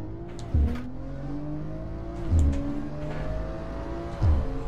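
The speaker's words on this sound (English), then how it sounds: "Like, listen to that car," A car engine revs hard on a race track in Assetto Corsa, its loud, close pitch climbing steadily and broken by three sharp shift bursts.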